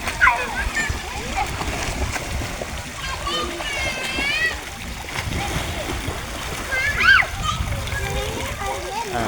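Children splash and play in water at an outdoor swimming spot, with continuous sloshing and splatter, kids' shouts and squeals mixed in, and an adult voice talking nearby.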